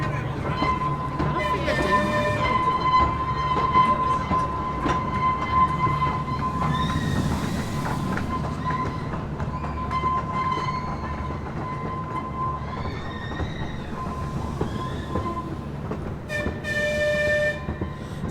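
Pleasure Beach Express ride train at Blackpool Pleasure Beach running steadily through a tunnel and past ride scenery, a continuous rumble with tonal squeals and whistle-like tones, loud and close throughout.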